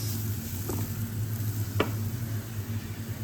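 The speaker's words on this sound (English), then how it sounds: "And I fry my onions" Onions fry in a pan with a constant soft sizzle, punctuated by a couple of sharp utensil taps, and no one talks.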